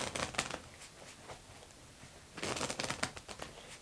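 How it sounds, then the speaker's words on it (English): A deck of playing cards is shuffled by hand in two quick, crisp rippling bursts separated by a quieter pause. The sound is close and fairly soft, with no talking. "I'm going to give them a few shuffles here"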